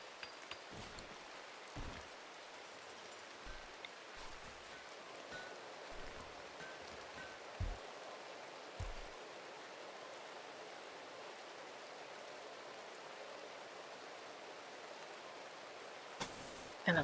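Steady rain in the RimWorld video game, a soft, quiet hiss of falling drops that holds constant throughout, broken by a few faint scattered taps and low thumps.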